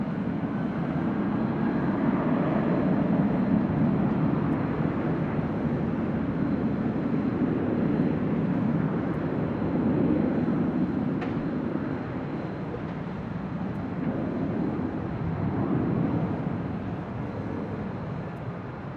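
A jet airliner waits and lines up on runway 24 left at LAX, heard from high atop a nearby hotel as a continuous low, rumbling engine roar that swells gently and fades slightly toward the end, with no talk.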